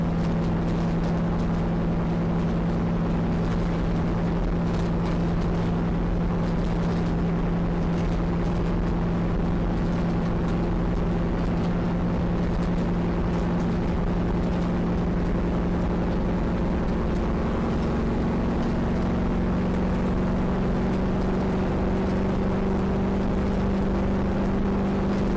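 A NASCAR stock car engine drones at a steady low 2,000 to 2,200 RPM under caution at Daytona, a constant loud, even hum with a faint pitch rise toward the end and no talk.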